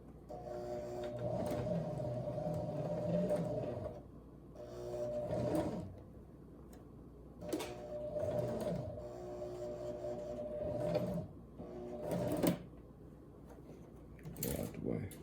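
Sewing machine running in several bursts as it stitches a zipper into an old garment, a steady motor whir with mechanical chatter, starting and stopping with pauses between runs.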